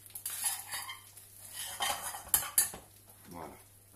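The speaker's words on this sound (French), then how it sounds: "Je mélange mon petit riz." A utensil stirs rice in a pan while stuffed peppers are prepared, giving scattered scraping and clinking strokes against the cookware, close and moderately loud, with irregular pauses between bursts.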